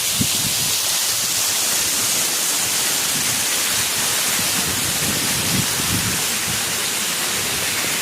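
Mother Falls waterfall pours with a steady, loud broadband rush that stays even from start to finish, with no voices over it.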